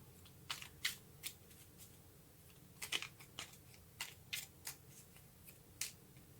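Tarot cards being shuffled close up, with a steady series of soft, crisp card snaps and riffles over a low background hum.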